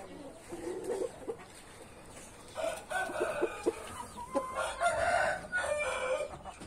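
A hen laying an egg in a nest clucks repeatedly in loud, close bursts, with a rising cackle and scattered bird calls around them.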